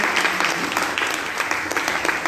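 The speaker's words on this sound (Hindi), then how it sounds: "तो जोरदार तालियां अपने लिए बजाओ।" Loud, dense applause from an audience at a business success-plan meeting, steady clapping throughout with a faint voice underneath.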